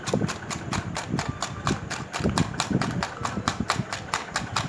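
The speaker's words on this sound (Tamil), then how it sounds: "அதையும் நல்லா பீட் பண்ணுறேன்." Tapioca batter with brown sugar is beaten by hand in a bowl, a quick regular series of wet slapping strokes, close and steady throughout.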